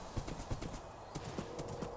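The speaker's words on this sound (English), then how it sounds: "I like riding my horse." Horse hooves clip-clop at a riding pace along a woodland path in a survival video game, with regular, fairly close hoofbeats and no talking.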